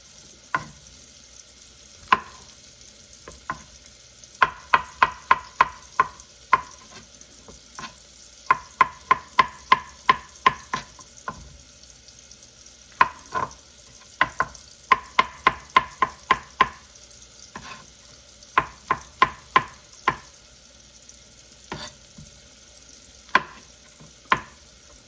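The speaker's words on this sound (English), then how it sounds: "The idea is we want to soften the mushrooms and the onions just enough." Mushrooms and onions for a small batch of creamy mushroom soup are stirred in a pot, with close, crisp scraping taps in rhythmic bursts over a low, quiet background and no talking.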